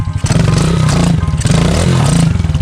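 A Honda CRF110 pit bike fitted with a 147cc big bore kit revs hard up close, its engine note rising and falling through the mid-to-high range with rattling mechanical clatter.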